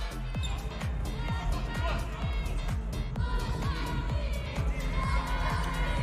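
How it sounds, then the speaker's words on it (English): Crowd noise roars steadily through an indoor basketball game, with repeated ball bounces thudding on the court beneath the cheering and shouts; the din stays loud and continuous throughout. "You can hear the crowds cheering with the loudest noise."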